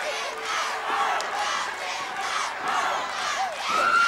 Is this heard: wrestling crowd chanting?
yes